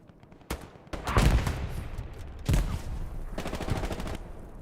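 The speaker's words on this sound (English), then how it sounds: "That's UFR artillery." Artillery fire in Hell Let Loose on the Hürtgen map, a series of loud, sharp booming blasts in quick clusters with rattling gunfire between them, close and heavy.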